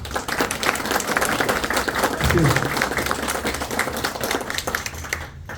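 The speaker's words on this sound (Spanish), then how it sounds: "Le damos un aplauso, por favor." Audience at an academic engineering conference applauding at the end of a talk, a dense, steady wash of many hands clapping that holds for several seconds before thinning out at the very end.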